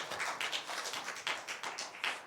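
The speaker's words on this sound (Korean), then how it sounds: "같이 박수 한번 보내드리겠습니다." A church congregation gives scattered, fairly quiet applause, with many overlapping claps forming a soft, uneven patter throughout.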